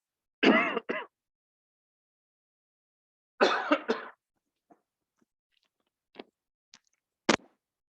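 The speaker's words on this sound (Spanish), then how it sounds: "me da un ataque tos" Two bursts of harsh, raspy coughing, a few seconds apart, followed by scattered small throat sounds and clicks in near silence.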